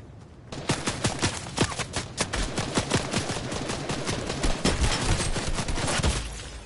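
Rapid bursts of mechanical assault rifle fire in Fortnite, a dense crackling string of close shots that runs for several seconds with no talking.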